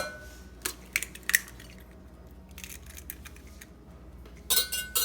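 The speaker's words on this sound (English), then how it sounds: "we're going to crack 3 eggs" Three eggs being cracked into a bowl for French toast at home: a few sharp, close taps and clinks of shell on the rim, spaced apart, with soft quiet gaps between them and a brief cluster near the end.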